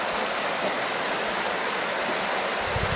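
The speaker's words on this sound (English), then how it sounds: "I love to hear the water." Huntington Creek in Columbia County, Pennsylvania, rushes by with a steady, broad hiss of flowing water near a covered bridge, close and continuous with no voices.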